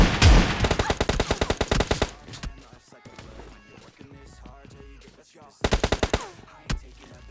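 Rapid bursts of S686 shotgun fire in PUBG Lite, a fast string of sharp loud blasts, then scattered shots and game noise, followed by another quick volley near the end.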